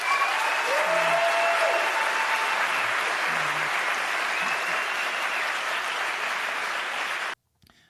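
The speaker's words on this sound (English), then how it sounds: "Booing and heckling, completely hilarious for Nancy Pelosi there in liberal New York." A large crowd at a liberal New York event boos and heckles Nancy Pelosi on stage, a loud, dense, steady roar of voices lasting about seven seconds before cutting off abruptly.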